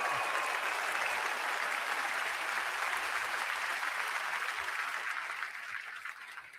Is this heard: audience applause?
yes